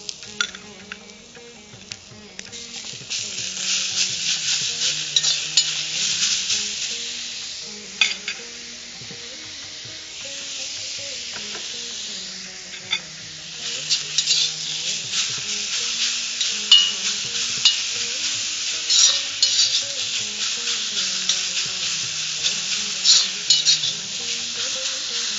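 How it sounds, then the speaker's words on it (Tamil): Grated beetroot sautés in a pan for beetroot aval upma, a long run of moderate hissing sizzle with repeated stirring and the scrape and knock of a utensil against the pan. "இந்த பீட்ரூட் நல்லா பச்சை வாசம் போற வரைக்கும் வதக்கிக்க போறோம்."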